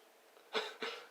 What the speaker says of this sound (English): Everyone's having a coughing fit today.